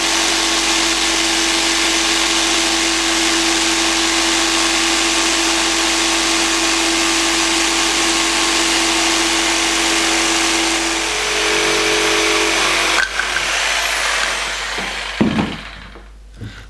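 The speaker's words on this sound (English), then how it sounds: "lock them securely into the vise and cut them out with a jigsaw" Jigsaw cutting pieces clamped in a vise, a loud continuous motor whine with steady rasping blade buzz for about thirteen seconds, then cutting out and winding down to a few clunks.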